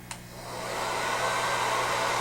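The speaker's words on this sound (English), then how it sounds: "This is a standard hairdryer" A standard hair dryer whirs, starting with a click and rising into a steady, loud broadband rush of air that holds evenly, close and alone with no voices.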